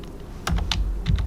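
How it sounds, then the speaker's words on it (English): Fingers typing on a computer keyboard, a handful of sharp, close key clicks in an uneven rhythm, with no one speaking. "You'll type in the county."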